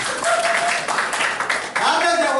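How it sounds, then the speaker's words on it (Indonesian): An audience claps together during a motivational leadership training seminar, making a dense, lively patter of many hands that runs for a couple of seconds, fairly loud and close, with voices mixed in. "Tepuk tangan dulu kan."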